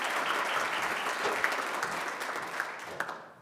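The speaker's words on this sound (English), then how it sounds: "Please give them all a round of applause." Conference audience applauding a group of introduced university presenters, steady mid-distance clapping that holds and then tapers off toward the end, with a few louder individual claps.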